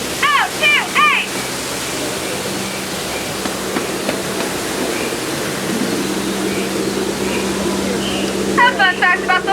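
Steady rushing water from the waterfall on the Disneyland Jungle Cruise ride at night, a constant broad wash running throughout, with brief voices at the start and end.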